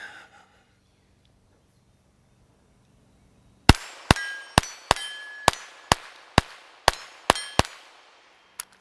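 A Ruger Mark IV pistol fires a rapid string of about ten shots, each one ringing sharply off steel plates at the range. The shots come in a quick, slightly uneven rhythm after a quiet pause.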